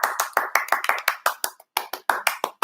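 Applause from a small group greeting a guest, a quick uneven run of sharp hand claps, close and loud, with no talking over it.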